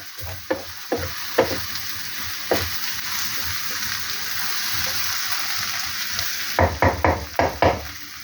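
An egg and potato mixture is stir-fried in a kadai, with a continuous close sizzle broken by sharp scraping strokes of the spatula, a cluster of quick stirs near the end.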